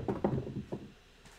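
Dice thrown on a craps table, a brief clatter of a few knocks and bounces close by that settles within about a second.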